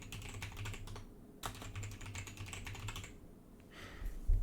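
A master password is typed on a computer keyboard while setting up a KeePassXC database: close, steady clatter of key presses in quick runs, with brief pauses between bursts and no talking.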